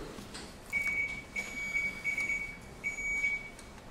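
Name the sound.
quiz buzzer test beep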